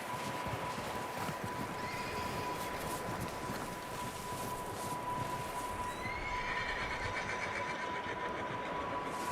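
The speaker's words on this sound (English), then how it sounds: "There's horses in here." Horses in a barn in the video game Red Dead Redemption 2, a few whinnies and neighs over a constant airy background, with faint hoof clops, moderately near.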